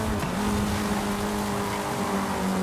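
Ford Escort race car engine in Forza Horizon 5, a steady, loud droning hum held at high revs throughout, with no pauses and no talking.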